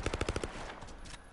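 Enemies fire at the player in a video game: a rapid, close burst of about six automatic gunshots, then a fainter scattered crackle of shots trailing off.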